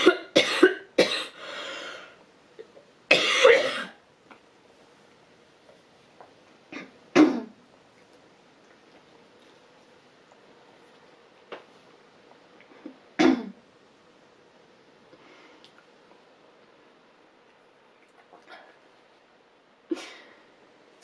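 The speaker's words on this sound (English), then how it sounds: "I just had to stop then for like a coughing fit" Harsh coughs come in scattered bursts, a cluster at the start and more spread out later, separated by stretches of quiet breathing.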